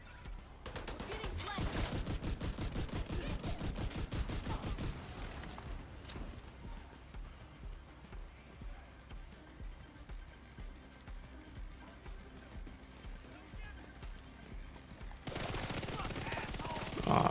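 Rapid automatic gunfire from The Division 2 rattles in dense bursts, loudest at the start and end, with quieter scattered shots and faint game ambience in between.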